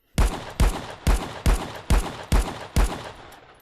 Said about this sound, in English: every time I pull this trigger, a bullet's gonna fly down range